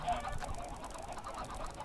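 Chickens clucking in the Minecraft video game, a few short cackling clucks heard clearly at moderate volume with no talk over them.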